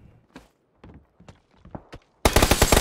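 Gunfire in a Thai-commentated competitive shooter scrim, a loud dense burst of rapid shots near the end, following faint scattered game sounds and footsteps.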